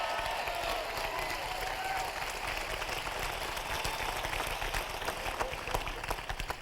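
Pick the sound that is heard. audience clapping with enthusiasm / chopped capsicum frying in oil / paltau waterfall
audience clapping with enthusiasm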